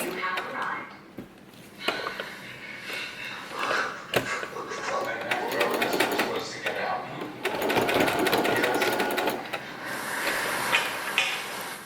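A sewing machine stitches the front straps of a bikini swimsuit bottom, running in steady bursts with brief pauses, close and moderately loud, with some voice heard over it.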